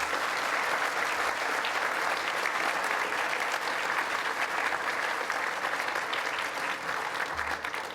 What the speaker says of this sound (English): can I just get you to give all of our recipients a massive round of applause?